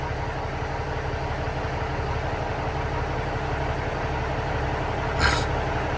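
A CDL Class A truck tractor engine idling while warming up after sitting unused, a steady low diesel rumble up close, with a brief sharp hiss near the end.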